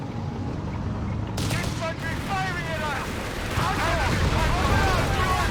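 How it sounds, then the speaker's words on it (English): Loud, dense Company of Heroes 3 battle noise with booming explosive blasts and crackling gunfire, continuous and close, with whistling tones weaving through the din. "you can hear they've gone for the big explosives"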